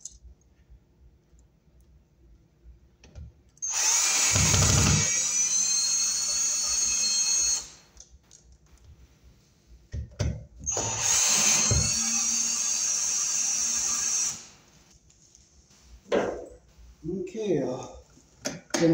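A power drill drives screws into a vanity light fixture's mounting, two sustained high whirring runs of several seconds each with quieter handling noises and brief speech between them.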